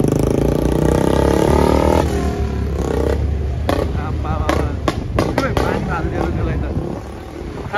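Several sharp firecracker bangs crack out in quick succession over a loud engine rumble and voices.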